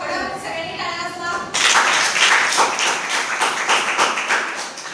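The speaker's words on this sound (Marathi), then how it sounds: "खडक सगळ्यांनी टाळ्या वाजवा." A class of children bursts into loud, dense clapping after a brief stretch of voices, the applause continuing steadily to the end.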